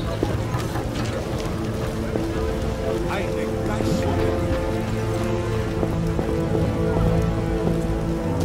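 Heavy rain in The Witcher pours steadily, a dense patter of drops on surfaces running throughout, with a low tonal game soundtrack humming underneath.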